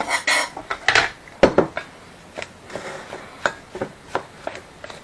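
Bread ingredients being stirred in a bowl, with a series of irregular scraping and knocking clinks from a utensil against the bowl, fairly close and loud, tapering into softer taps.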